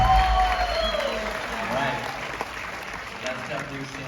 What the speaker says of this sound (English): give a big round of applause for our amazing MC, Mr. Rogelio Douglas Jr.